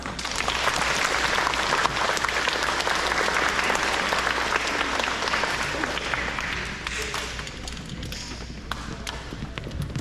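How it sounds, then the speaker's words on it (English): An audience at an elementary school awards ceremony applauds the young award winners with loud, dense clapping that holds strong, then gradually thins and softens toward the end, with scattered louder claps. "So give them a round of applause."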